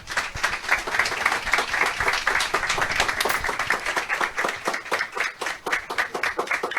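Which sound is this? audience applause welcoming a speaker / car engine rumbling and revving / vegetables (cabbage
audience applause welcoming a speaker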